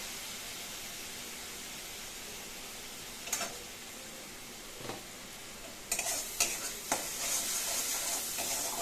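Spice paste with turmeric and salt sautéing for a hilsa fish curry: a steady hissing sizzle throughout, with a few spatula scrapes midway and a louder burst of sizzling and stirring near the end.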